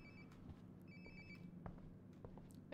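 Phone ringing in Life is Strange: Before the Storm, a faint, repeating electronic ring in short bursts over a quiet, low background hum.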